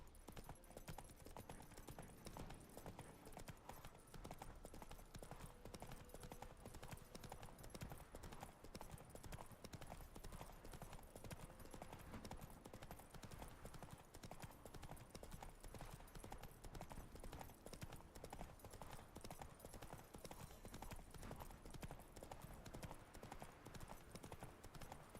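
Geralt's horse Roach gallops in The Witcher 3: Wild Hunt, a continuous fast clip-clop of hooves running steadily and close throughout, with a faint whinny and low game ambience.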